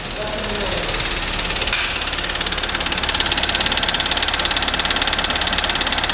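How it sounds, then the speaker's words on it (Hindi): Engine of a waterlogged MG Hector idling roughly with a misfire, a loud, close, rhythmic knocking and shaking thrum that keeps pulsing steadily, with a brief clatter early on. "देख रहे इंजन भी कैसे शेक कर रहा है."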